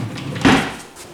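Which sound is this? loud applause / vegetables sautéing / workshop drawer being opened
workshop drawer being opened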